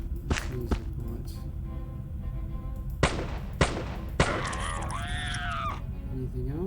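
Several sharp gunshots from a gunner character's firearm in the steampunk role-playing game Arcanum, spaced irregularly at moderate loudness, with the last shot trailing into a rising mechanical whine over low background game ambience.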